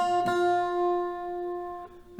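The ending figure rings out on an acoustic guitar: a bright plucked note that sustains and slowly fades, then a second pluck near the end. No talking.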